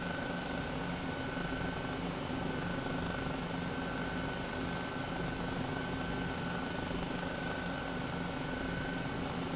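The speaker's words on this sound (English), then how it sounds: "Actually haven't tried to land the helicopter on the ship yet" Helicopter hovering beside an aircraft carrier in Microsoft Flight Simulator, a steady whirring rotor and engine drone that holds at a constant level throughout, with no speech.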